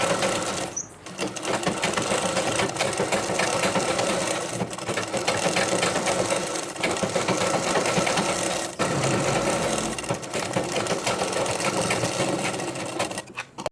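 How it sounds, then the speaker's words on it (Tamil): Sewing machine stitching the belt onto an inskirt, a steady close mechanical whir that runs almost continuously with one brief dip near the start, loud and alone without talking. "இப்போ நான் தைச்சி காட்டுறேன்"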